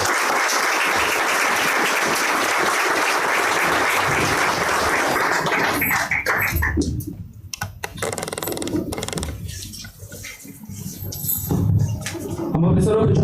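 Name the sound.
congregation applauding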